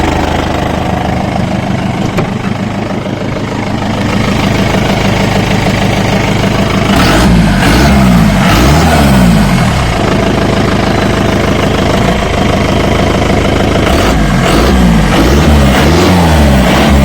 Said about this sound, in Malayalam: അതാണ് ടെർബോയുടെ സൗണ്ട് നിങ്ങൾക്ക് കേൾക്കാം